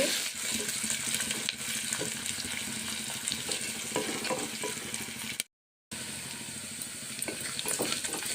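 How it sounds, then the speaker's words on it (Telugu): Onion pieces and curry leaves frying in oil in a pan for pudina rice give off a steady, close, dense sizzle that drops out for a moment and then carries on. "కొంచెం సేపు వేయించుకుందామండి కొంచెం కరివేపాకు కూడా వేసుకున్నానండి"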